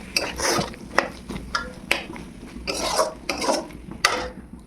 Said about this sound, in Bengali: এবারে ভালো করে সয়াবিনের সাথে কষাতে হবে